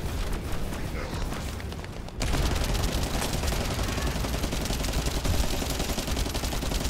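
Rapid gunfire in a first-person shooter, a dense continuous rattle of shots that starts softer and turns louder and fuller partway through, with blasts and effects mixed in, no speech.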